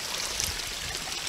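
Water flowing steadily along a city creek near a bridge and drainage pipes, a continuous hissing, close rush with light trickling and no talking.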